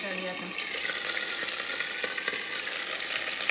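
Sliced onions tipped into a hot frying pan while cooking mutton paya, giving a steady broadband sizzle and spatter that holds at an even level throughout, with faint stirring and a little background talk.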